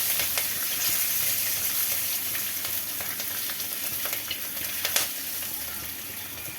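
Garlic cloves and green chillies frying in oil in a pan, a steady, loud sizzle with crackling pops and occasional stirring, heard alone without talk.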